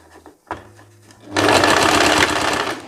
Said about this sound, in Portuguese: E aqui você vai passar agora na máquina. Uma costura reta, normal, nela toda.